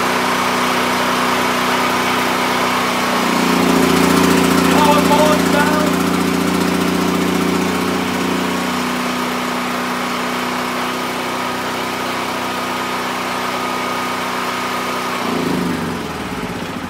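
Predator 9000 watt generator converted from gasoline to run on propane, its engine droning steadily at close range with a brief rise in loudness partway through, continuous from start to finish.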